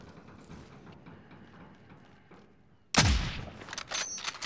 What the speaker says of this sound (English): Someone else is shooting you from the right.